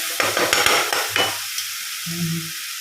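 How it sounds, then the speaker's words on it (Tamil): Masala bun filling with homemade garam masala is sautéed in a pan, with several close, scraping stirs over a soft sizzle. The stirring fades to a quieter fry with a brief low hum at the end. "சேர்த்து நம்ம நல்லா வதக்கிப்போம்"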